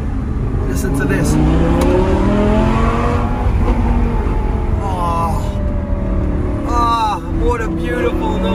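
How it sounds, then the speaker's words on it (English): An Audi R8 V10 Plus with its Lamborghini Huracan-derived V10 revs with exhaust valves open, a loud, close engine roar rising and falling through several revs, heard from inside the car with the windows partly open, while someone talks over it. "What a beautiful noise. Obviously, Lamborghini derived engine, same engine as you get in the Lamborghini Huracan."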